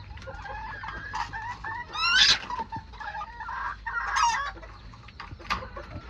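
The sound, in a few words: pair of spangled Old English Game bantam chickens clucking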